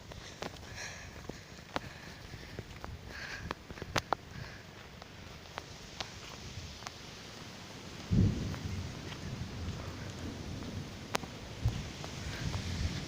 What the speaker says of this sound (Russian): думаю, гроза начинается